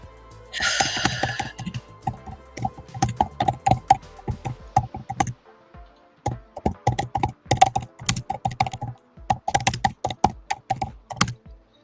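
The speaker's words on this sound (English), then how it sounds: "Angry typing." Fast, forceful typing on a laptop keyboard, picked up close by the built-in microphone, comes in clattering bursts of rapid key clicks separated by short pauses.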